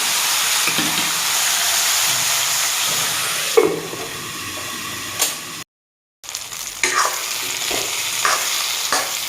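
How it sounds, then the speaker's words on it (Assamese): Fish seasoned with salt fries in a pan with a loud, close sizzle, broken by several scraping stirs and one brief gap of silence before the frying resumes. "প্ৰয়োজন অনুসাৰে নিমখ ধুনীয়াকৈ ভাজিম।"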